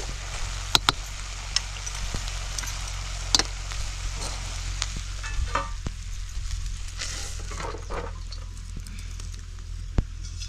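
Wild leafy greens cook in a pan, with a soft, steady sizzle and scattered light scrapes and taps of stirring close by. No one speaks.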